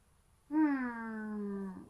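A single clear cat meow, drawn out and slightly falling in pitch, heard alone against a quiet background.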